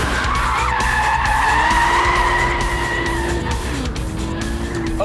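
An Audi car slides under the handbrake, its tyres squealing loudly and continuously over a strained engine note, with the screech rising and falling through the slide.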